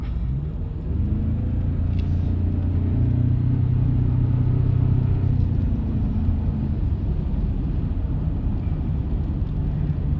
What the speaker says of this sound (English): I definitely love when you can hear a turbo spooling up